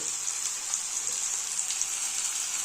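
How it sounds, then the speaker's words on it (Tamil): Brinjal pieces with a little tamarind sautéing in a pan for brinjal chutney, a steady bright sizzle with soft crackles, close and continuous, no talking. "மறுபடியும் வதக்குறோம்."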